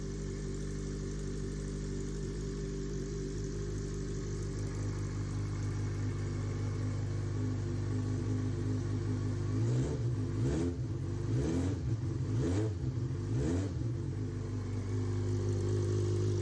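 A Yamaha XJ6 motorcycle with an aftermarket exhaust idles with a steady deep rumble, then gets four or five quick throttle blips that rise and fall sharply, close by.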